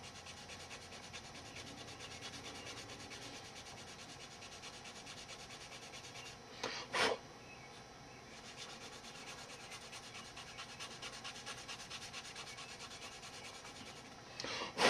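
Continuous abrasive rubbing and rasping against a metal car frame rail, steady and close, briefly interrupted by a sharper scrape before the filing and sanding strokes resume.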